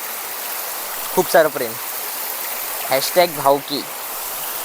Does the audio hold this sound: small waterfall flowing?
yes